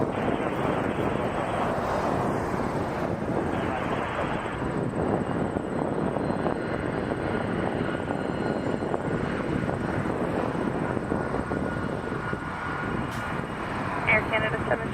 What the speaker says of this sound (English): they're going to depart a Cessna TU-206G Cameron Air. with floats